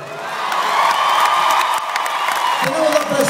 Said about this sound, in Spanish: pido que el Gibson Amphitheatre una sus palmas y la reciba como se merece la tercera generación Aguilar.